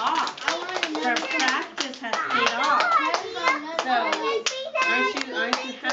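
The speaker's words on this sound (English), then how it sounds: "I think you need to give her another round of applause." Hands clapping in a quick, uneven rhythm at close range for an applause round, with a voice and adult talk mixed through and over the claps.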